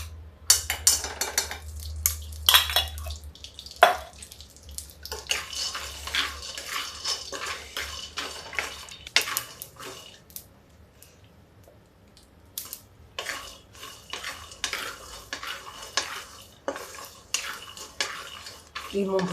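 Peanuts and whole dried chillies with stems roast in ghee in a pan, stirred with a metal spoon that scrapes and clatters in repeated bursts over a soft sizzle.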